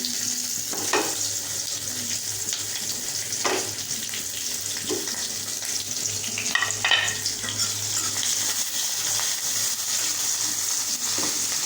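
Chopped onions frying in a pan, a steady, fairly loud sizzle with occasional stirring clicks and scrapes, no one talking.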